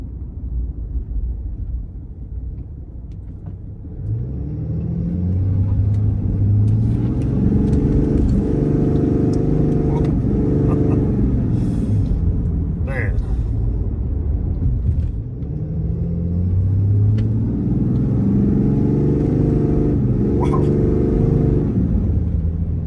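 A tuned RAM 3500 heavy-duty pickup with a 5th-gen Cummins 6.7 diesel revs hard in two loud, sustained surges, its deep rumbling drone swelling and easing with no talk over it.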